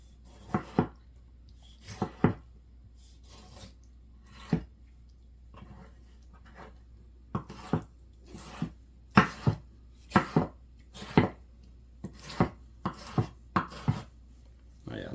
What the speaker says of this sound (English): nice rough chop there